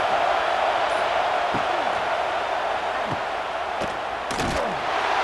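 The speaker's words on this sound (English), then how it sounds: "The roar of the crowd trying to fuel this defense to keep them pinned in their own end." A stadium crowd roars in an EA college football game, a steady loud wash of cheering with occasional sharp thuds and clicks from on-field action.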